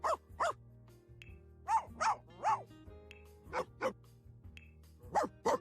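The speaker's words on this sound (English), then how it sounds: "I will show you all the different barks that the dogs have" Dogs in The Sims 4 Cats and Dogs give a series of clear, close barks in short separated bursts, about a dozen in all, over soft background music with no talking.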